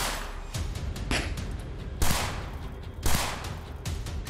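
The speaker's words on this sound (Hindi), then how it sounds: "तभी गोलियों की तड़तड़ाहट से दिल्ली का ये इलाका गूंज उठा" Bursts of repeated gunfire rattle through a Delhi street area, sharp cracks arriving in several clusters with echoing tails, moderately distant, no talking over it.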